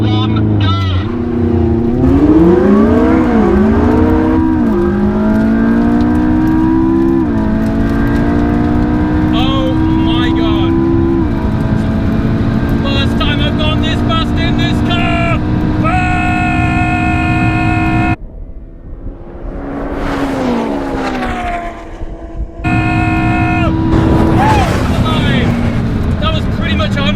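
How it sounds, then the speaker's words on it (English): McLaren 675LT and Porsche 918 Spyder launching hard from a standstill on launch control, engines roaring loud and near with rising pitch through several gear shifts, wind rush at speed, a brief drop, then revving again, with occasional voices. "Let's play around with launch control"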